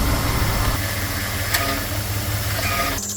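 A 2000 Jeep Grand Cherokee 4.7 V8 idles steadily up close with a fresh power steering pump, giving an even low hum with a faint hiss and no voices.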